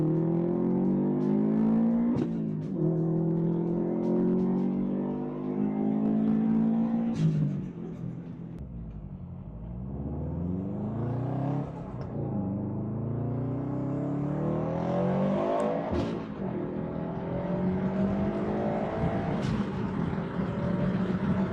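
A tuned Subaru STI running on 91 octane or E85 makes repeated full-throttle acceleration pulls, engine pitch climbing steeply through the gears with brief drops at each shift, loud and close throughout.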